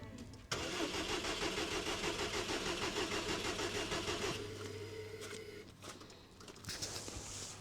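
A Citroën XM engine cranks and catches, then runs with a fast rhythmic chatter that settles into a lower idle before a brief rev near the end, with faint talk nearby.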